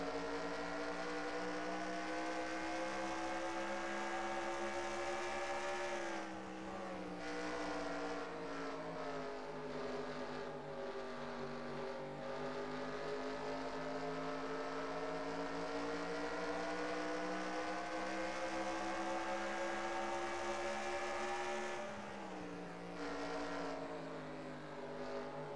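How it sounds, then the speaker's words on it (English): A race car engine in a Venom Energy 100 race drones loudly and continuously from onboard, its pitch rising and falling through gear changes and throttle lifts over a long stretch. "Eli really had the car step out there. You heard it on the onboard sound shot"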